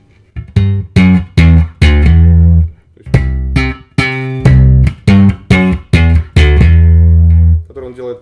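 An electric bass runs through a live-style phrase on the third string: clipped, rhythmic plucked notes in two bursts, each closing on a held low note, loud and close.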